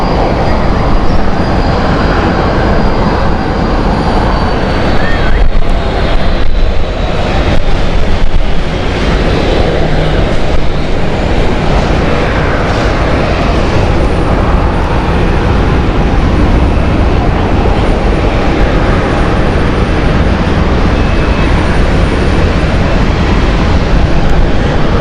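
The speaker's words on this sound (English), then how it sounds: "the KLM 737 is now ready to go into the stand" A KLM Boeing 737 airliner taxiing into its stand at Amsterdam Schiphol Airport, a steady, loud jet engine whine and rumble that holds evenly throughout, with no talking.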